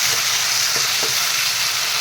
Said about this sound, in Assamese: ভাজোতে ভাজোতে বিলাহীকেইটা নৰম হৈ গৈছে।